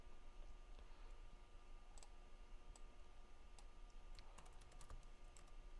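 Computer keyboard typing during a laptop motherboard repair session, a quiet steady run of light key clicks with scattered sharper taps over faint background hiss.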